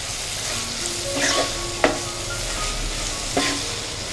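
Spices with coriander-cumin powder and sugar being stirred into green tomato and chili sambharo in a pan, a soft continuous sizzle with a few sharp scrapes and taps of the spoon.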